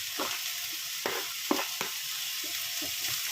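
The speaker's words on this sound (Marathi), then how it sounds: "फ्लावर थोडासा रोस्ट करूया आपण कांद्याबरोबर भाजून घेऊया" Cauliflower, onion and tomato fry in a pan with a steady, close sizzle, broken by several sharp stirring scrapes and knocks.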